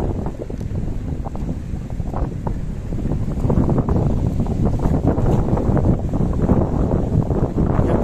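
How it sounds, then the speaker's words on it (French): Steady wind rushes and buffets against a microphone along a coastal mountain-bike route between Garraf and Calafell, a continuous broadband roar with gusty swells and no talking. "Il y a un peu plus de vent ici que derrière."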